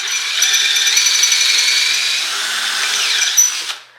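A power-driven carbide pen trimming tool grinds down a wood pen blank and its brass tube with a continuous high-pitched whine and scraping, loud and close for several seconds before it winds down.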